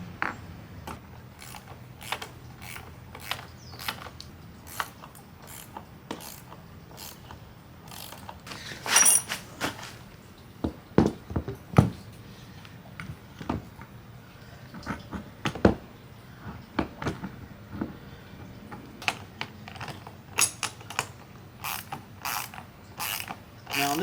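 A ratchet wrench clicks steadily while stubby bolts are tightened to mount ladder brackets on a Terra Firma Overland Summit Quad roof-top tent, with close, quiet, irregular bursts of pawl clicks and small metallic knocks.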